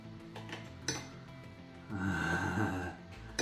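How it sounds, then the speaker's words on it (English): Thick homemade Ghostbusters slime is stirred in a pot, a few light clinks of utensil on metal giving way to a louder, wet, squelching churn in the latter half, close and alone. "Now as it cools down, it's going to get even better, so let's keep stirring"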